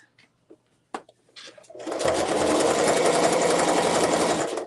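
A sewing machine runs steadily while stitching a zipper tote bag, starting after a few faint clicks and handling sounds and then humming loudly and continuously to the end.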